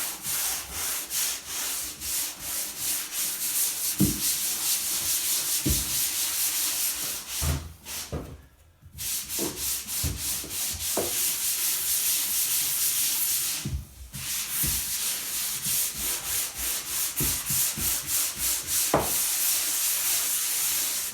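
Continuous abrasive rubbing of wet sanding across a varnished floor with a vacuum, steady and close, with brief pauses and occasional knocks; no talking.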